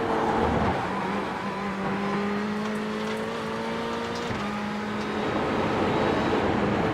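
A Ferrari race car engine roars steadily in a sim-racing endurance race at Brands Hatch, close and loud, its pitch rising and falling through gear shifts with no talk over it.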